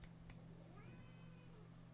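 A pet cat gives a single faint, drawn-out meow partway through, heard from a little distance over a steady low hum and background noise.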